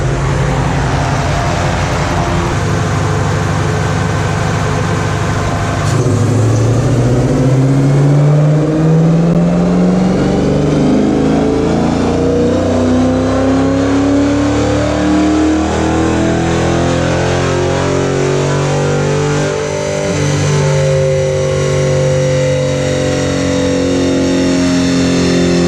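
A full bolt-on Dodge Charger R/T roars loud and close on a dyno, its engine note climbing steadily in pitch through a long wide-open pull before easing off near the end.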